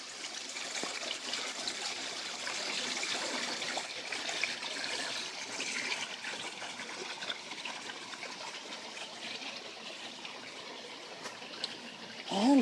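Water flows steadily down into a garden pond, turning a spinning ball, with hornwort growing nearby; a continuous close trickling and splashing rush holds at an even level throughout.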